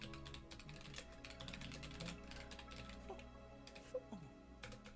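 Rapid typing on a computer keyboard, a dense run of light key clicks with uneven rhythm and occasional louder taps, faint and close, without talk.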